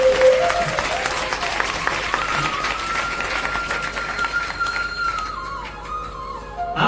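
Audience applause at a Hindu religious discourse on Hanuman, sustained crowd clapping filling the whole stretch at fairly steady loudness, with faint tones from a sound system underneath.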